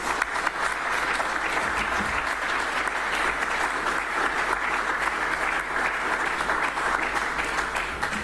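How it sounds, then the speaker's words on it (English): A large audience applauds at a public forum on monetizing minerals royalties, a dense, loud and even roar of clapping that holds steady for the full length without pause. "let me hear you give me a round of applause"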